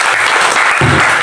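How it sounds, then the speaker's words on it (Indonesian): A church congregation claps in loud, dense applause through the whole short burst, with no one speaking over it. "Beri tepuk tangan."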